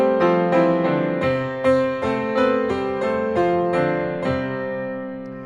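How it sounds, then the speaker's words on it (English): English church bells ring out in a steady peal, each bell struck roughly every half second, the rich ringing tones overlapping and sustaining loudly and close with no voices. "we in England at least are used to bells that sound like this."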